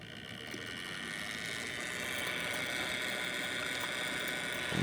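An antique Omnigraph Morse code device runs after its knob is turned, giving a steady mechanical whir with a faint rapid ticking that stays even and close and swells slightly toward the end.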